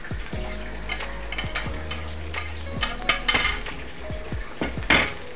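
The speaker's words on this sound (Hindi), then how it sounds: "इस पर हमने तवे पे थोड़ा सा इस प्याज को फ्राई कर लेना है" Onion fries on a griddle pan in a home kitchen, a steady sizzle with metal utensil scrapes and clinks against the pan while stirring, close and busy, with no talking.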